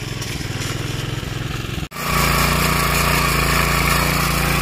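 A tractor engine chugs steadily on a Konkan paddy farm during rice sowing, then cuts out briefly and comes back louder and fuller, running continuously and close by.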